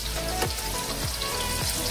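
Thin pork fillet strips fry in a pan with a constant dense sizzle and crackle, close and steady, with light rhythmic scraping or stirring sounds every half second or so.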